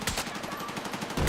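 Rapid automatic gunfire in a shooter video game, a dense, loud burst of rattling shots lasting over a second with no pause.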